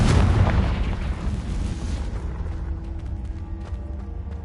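A Confringo blasting curse explosion in Hogwarts Legacy: one loud, close boom at the start that rolls off into a fading rumble and scattered debris over a few seconds.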